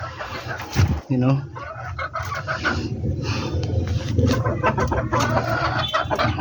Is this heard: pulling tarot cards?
no